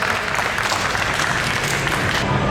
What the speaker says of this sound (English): let's give you guys one more big round of applause